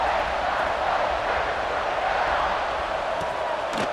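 Steady, dense crowd buzz filling a stadium in the football video game EA Sports College Football 26, a continuous roar with no distinct peaks throughout.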